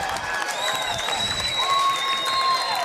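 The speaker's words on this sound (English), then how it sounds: "And he's getting an ovation from the crowd." Crowd at a varsity boys basketball game against Shadow Ridge giving a standing ovation, steady loud cheering and applause with whistles and shouts throughout.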